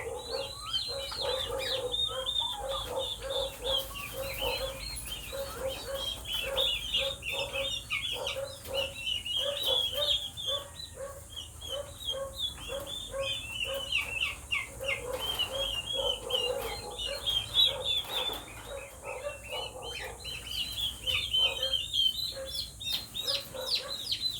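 Newly hatched turkey chicks chirping continuously in a dense, high-pitched chorus, moderately close and steady throughout.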